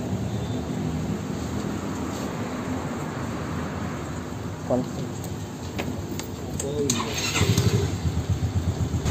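A Yamaha Xeon GT125 motorcycle engine cranks and catches toward the end, rising into a rough idle over a steady background hum, with someone speaking briefly.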